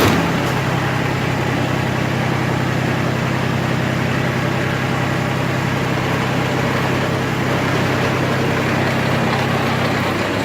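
Engine driving the spinning chain of a homemade potato harvester, a loud, steady mechanical drone with a constant rattle that runs unbroken throughout.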